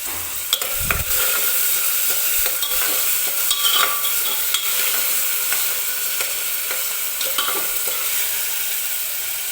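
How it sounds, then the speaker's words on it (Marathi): Onions frying in oil with a pinch of salt, stirred in the pan for a spicy mutton curry; a steady, close sizzle fills the whole stretch, broken by scraping stir strokes and small pops. "कांदा लवकर भाजावा, यासाठी मी थोडंसं मीठ कांदा भाजताना कांद्यामध्ये टाकते"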